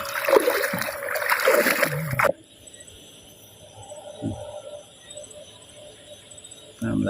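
Water splashes and churns in a flooded rice paddy, loud and close for the first couple of seconds, then drops to a thinner trickling flow with a high steady insect drone behind it, before a brief burst of splashing returns at the end.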